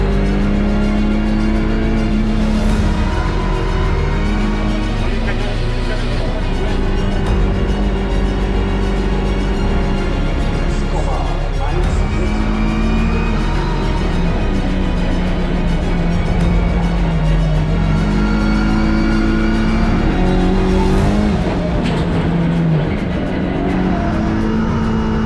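A WTCR touring car lapping the Nordschleife in qualifying, heard from on board: a loud, continuous engine note rising and falling through gear changes and corners, with occasional brief tyre squeal.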